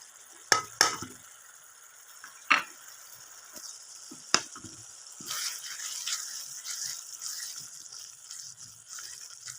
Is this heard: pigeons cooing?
no